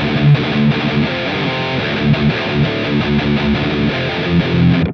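A distorted electric guitar played through an amp plugin plays a steady, gritty riff with sustained chords, fairly loud and alone with no talking.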